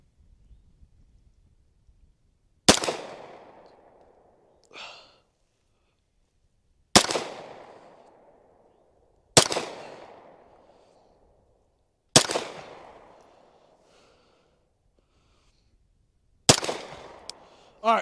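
Five sharp pistol shots from a Staccato HD P4 fired at an outdoor target, loud and close, spaced a couple of seconds apart, each with a ringing decay, with faint movement between them.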